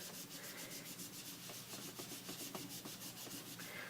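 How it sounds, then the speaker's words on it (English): Ink rubbed into a masked triangle on a handmade card, a steady close scrubbing with rhythmic back-and-forth strokes, quiet and without speech. "you just want to work that ink into that triangle until you get it the desired darkness that you want"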